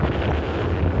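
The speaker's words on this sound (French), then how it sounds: "Regarde la puissance du vent là." Strong wind roars steadily against the microphone on an open salt flat in Chile, a loud, dense, continuous buffeting with no voices.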